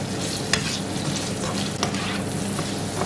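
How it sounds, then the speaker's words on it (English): Bell pepper sautés in a pan for fried rice, giving a steady, dense close sizzle with a couple of brief utensil clicks as it is stirred, no voices. "I'm going to be putting my bell pepper just to saute it a little bit."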